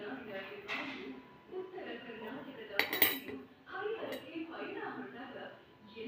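A fork cuts through food on a plate with clinks of metal against the dish, partly under ongoing talk, and one sharper clatter near the middle.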